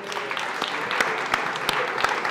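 Brief applause from a café audience at a political quiz, a burst of clapping with a few sharper claps standing out, short and fairly close.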